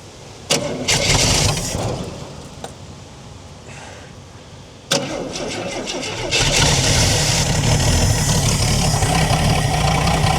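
A 1968 Ford Falcon, parked since 1990, cranks with sharp bursts, then catches and fires, settling into a loud, rough, continuous running roar.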